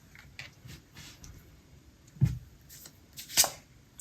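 Tarot cards handled during a reading, soft papery slides and taps with a few louder flicks and a thump, scattered irregularly and close.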